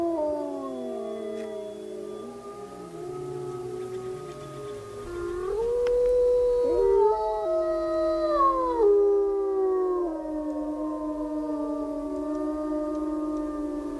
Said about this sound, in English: When the pack leader howls, it's often a signal for the others to gather around him.